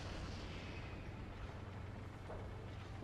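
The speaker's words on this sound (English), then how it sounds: "The pretty explosions are prettier now" Explosions in the Renegade X multiplayer shooter, a dense continuous rumble of blasts and heavy booms that fills the whole moment at a low, distant level, with no voices.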